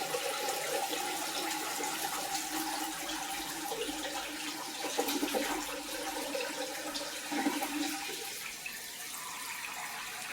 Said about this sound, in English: rinse this rice off, clean it up real good